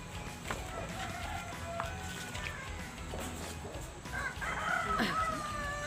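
A rooster crows amid clucking chickens in a busy farmyard, with steady background noise and a louder burst of crowing toward the end.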